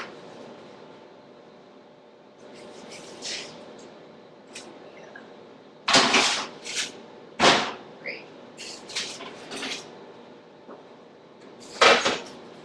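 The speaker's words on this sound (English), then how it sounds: "I'm going to take our zucchinis and give them a quick flip" Zucchini pieces tossed in a pan for pizza, giving a series of sharp clattering knocks and sizzling scrapes at irregular intervals, with quiet stretches between bursts.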